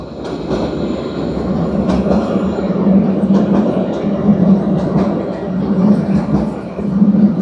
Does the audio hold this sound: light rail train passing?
yes